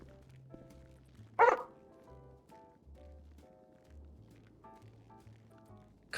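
A police K9 dog in a GTA roleplay game gives one sharp, loud bark that stands out above soft background game sounds and low hums, with the rest of the stretch quiet.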